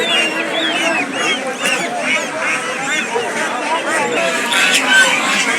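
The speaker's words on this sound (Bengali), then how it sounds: "ভাইয়া কি জাতের কিসের বাচ্চা ভাইয়া চীনা হাঁস এটা চীনা হাঁস" Chinese geese, a mother with her eleven goslings at a market, give a busy mix of honks and high peeping calls close by while people talk over them.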